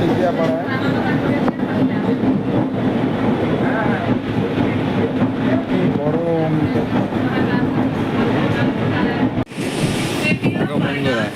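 A passenger train rolls into Kolaghat station in West Bengal, its loud steady rumble and wheel clatter filling the scene, with a brief burst of wind noise near the end.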